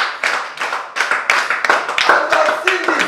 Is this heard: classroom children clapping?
yes